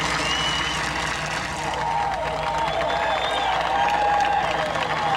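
A distant golf gallery at the 1996 US Open applauds and cheers for Jack Nicklaus, a steady, reverberant wash of clapping and crowd noise spreading across the course.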